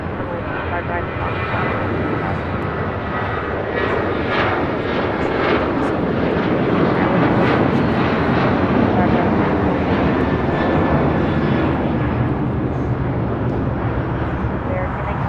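A Boeing 737 airliner rolls along the runway at LAX, a steady broadband jet roar that holds loud and unbroken throughout, with faint crackles over the constant engine rush.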